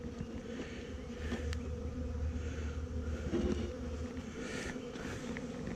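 Honey bees buzz steadily and densely at the entrance of a weak colony being moved to a nuc, a continuous close swarm drone with a brief murmured voice.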